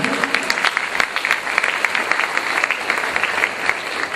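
Congregation applauding during a church sermon, sustained crowd clapping with distinct sharp individual claps standing out over the steady wash.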